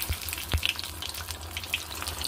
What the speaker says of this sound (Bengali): সেগুলোকে আমি ভালো করে ভেজে নেব।